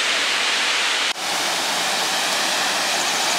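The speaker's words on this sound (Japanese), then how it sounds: "原尻の滝、" Harajiri Falls pours with more water than usual and runs muddy after rain, making a loud, steady, close rushing roar that fills the whole stretch, broken only by one brief dip, with no talking.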